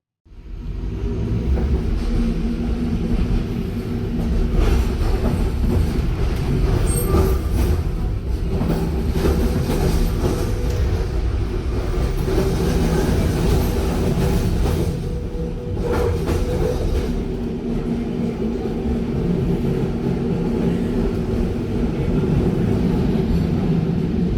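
Yarra Trams W8 class tram with four General Electric motors running along rails, a steady loud rumble with clattering and rattling throughout, heard up close without talk.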